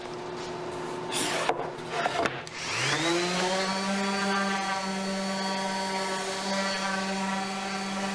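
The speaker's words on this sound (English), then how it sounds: "I'm going to sand them down with 80 grit, 150, and then 220" A power sander whirs up to speed on wooden boards, its steady motor hum holding after a rough scrape of handling, with no voices.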